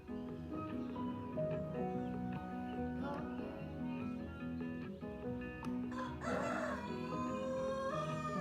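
Backyard pet chickens cluck and a rooster crows amid a dense, busy layer of other bird and animal sounds, heard at a moderate distance without any talking.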